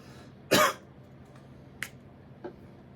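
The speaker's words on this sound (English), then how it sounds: "I want you to give me a good cough" A patient gives one strong, short cough during a clinical motor speech and swallowing evaluation, close and clear, followed by two faint small clicks or throat sounds in an otherwise quiet room.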